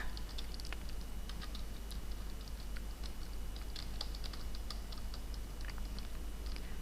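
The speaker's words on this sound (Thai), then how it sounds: "เราก็สามารถเลือกกลุ่มเซลล์ใดกลุ่มเซลล์หนึ่งแล้วก็พิมพ์ลงไปนะคะ" Steady keyboard typing as data is entered into a spreadsheet on a computer, a continuous patter of fairly quiet keystrokes over a low background hum, with no one talking.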